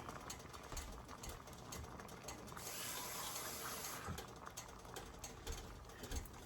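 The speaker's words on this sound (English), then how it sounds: "I'm going to rinse this can out a little bit" Tap water runs steadily into an emptied 8-ounce tomato sauce can being rinsed at a kitchen sink, a continuous close splashing rush that swells briefly louder midway, with no talking.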